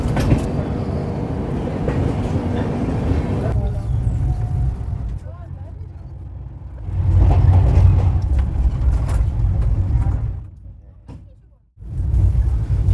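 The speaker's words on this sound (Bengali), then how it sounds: "কিন্তু রেনিগুন্টা থেকে ছাড়লো ট্রেন" Continuous rumble of the Bengaluru–Howrah Duronto Express running after leaving Renigunta, a steady loud rolling drone that swells briefly and then dips, with talk over it.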